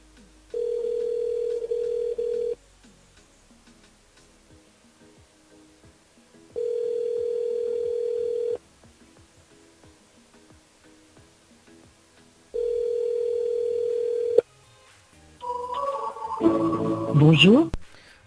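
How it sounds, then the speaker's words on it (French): Radio station phone line ringing out as a call goes to a listener: three long, loud rings in even rhythm with pauses between, then a brief voice on the line at the end. "le standard de la radio, on appelle Zili"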